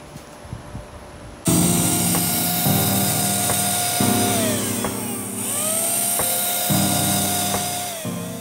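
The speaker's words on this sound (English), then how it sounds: "I'm using the Home Right Finish Max sprayer." A HomeRight Finish Max paint sprayer spraying paint onto a wooden picture frame; after a short quiet start the motor kicks on with a loud, close, high whine that rises and dips in pitch in bursts, and no one speaks.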